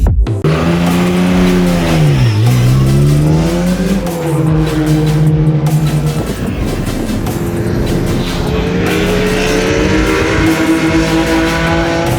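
Race cars lapping Snetterton circuit at speed, a loud continuous engine roar rising and falling in pitch with a Doppler sweep as cars pass close by, overlapping with further engines and tire noise, no talk.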